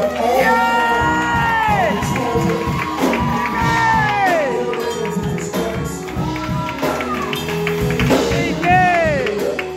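A church congregation cheers loudly for children, with whoops, shouts and rising, falling calls piling up over a rough crowd roar and some scattered clapping, all close and energetic.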